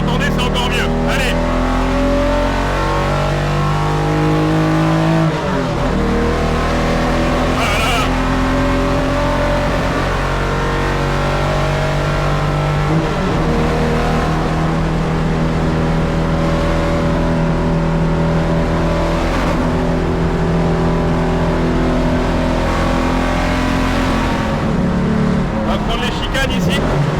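BMW 3.0 CSL "Batmobile" engine under sustained acceleration, heard from the cabin as a loud, continuous rising and falling drone with gear changes across the run, while someone talks over it.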